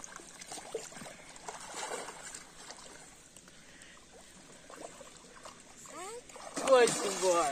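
A large tambaqui is released into a farm lake, with light water sloshing and a splash near the end, under quiet voices nearby.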